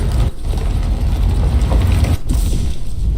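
Steady low mechanical rumble with ratcheting, gear-like machinery noise from a ship's engine in the factory-building game Techtonica, continuous and fairly loud with no voices.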